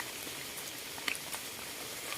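Light rain keeps falling outdoors during mushroom foraging in a forest, a soft, steady hiss with a few sharper drips near the middle and a louder tap at the end, with no talking.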